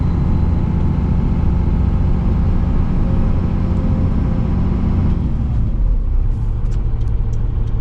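An old Cummins diesel truck in low gear rolls slowly at about ten miles an hour, giving a loud, continuous low engine rumble that eases slightly near the end, with a few faint clicks.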